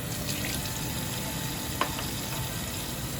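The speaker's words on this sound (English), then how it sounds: "run cold water into the mechanism 2 or 3 times and then leave it to dry" Cold tap water runs into a soap dispenser mechanism, a steady hissing, splashing flow heard close and continuous with one small clink partway through.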